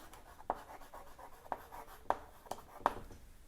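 Chalk or marker taps and strokes on a classroom board as set elements are written out, five or six short distinct knocks spaced unevenly over a quiet background.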